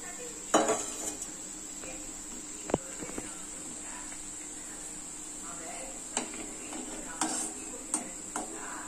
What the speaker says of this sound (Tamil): அதனால் இந்த மாதிரி ஃப்ரை பண்ணி